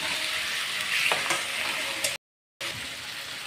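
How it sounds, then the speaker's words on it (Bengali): Green chili paste fries in oil in a pan, a steady bright sizzle with stirring scrapes for about two seconds, a brief cut to silence, then the sizzling resumes at the same level. "এখন এটাকে ভালো করে ভেজে নেব"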